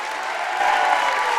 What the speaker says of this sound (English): Shawnee's faithful giving him a round of applause